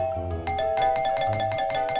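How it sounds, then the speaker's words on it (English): A doorbell in the video game Do Not Disturb rings repeatedly in quick succession, a bright electronic ding-dong chiming again and again, loud and close with no talk. "Can we just go ahead and ring the doorbell and see what happens?"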